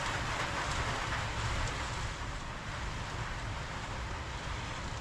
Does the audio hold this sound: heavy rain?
yes